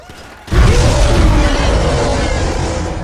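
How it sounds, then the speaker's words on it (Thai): A car blows up in GTA V with a sudden loud boom after a near-silent half second, followed by a sustained roaring, crackling burn that slowly fades, with no talking over it. "รถระเบิดเลย"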